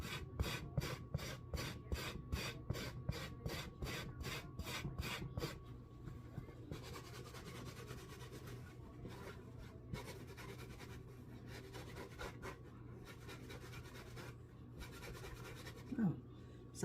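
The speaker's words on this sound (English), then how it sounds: "I'm just buffing away. I'm just trying to make sure I have it smooth, especially going around." A hat being buffed smooth by hand during hat making, giving steady close rubbing and rasping strokes, rhythmic and fairly loud at first, then a softer continuous scrubbing with occasional light knocks.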